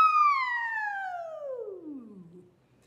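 A singer imitates a siren during a vocal warmup with one smooth glide that starts high and bright, then slides steadily down into a low, fading finish, performed alone without other sounds.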